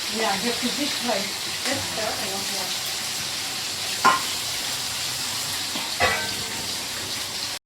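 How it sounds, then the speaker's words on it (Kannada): Fish fries in a pan in a kitchen, a steady close sizzle and hiss with a couple of sharper clatters, while a person talks quietly over it. "ಫಿಶ್ ಫ್ರೈ ಆಗ್ತಾ ಉಂಟು."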